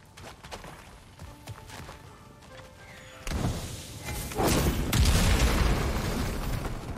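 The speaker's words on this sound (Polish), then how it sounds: "Użyj L2 i R1, by rzucić naczynie z olejem, wywołać potężną eksplozję, która może oczyścić drogę." Oil vessel explosion in God of War Ragnarök, a loud booming blast arriving in two heavy surges over game ambience and light clatter, with no speech.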